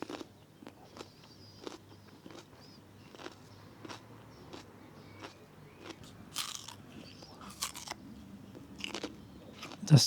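Someone bites into and chews a peach during a water fast, with repeated soft wet crunching bites and chews close to the microphone, steady at first and then a few louder bursts near the end.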